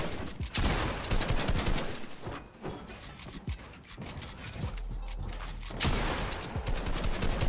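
Rapid gunfire crackles from a competitive video game tournament match, with dense bursts of automatic shots and scattered single cracks running nearly continuously at close range.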